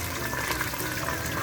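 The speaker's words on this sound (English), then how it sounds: "I've taken half of the water from the spaghetti, and I'm gonna go and throw that in there" Hot pasta cooking water from spaghetti poured into a pan of browned garlic and olive oil, a steady, loud rushing pour and sizzle filling the whole moment without pause.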